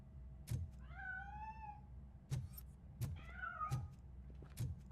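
A cat in the video game Robocop: Rogue City meows twice, each a clear rising-falling call, between soft rhythmic thuds and steady low background hum.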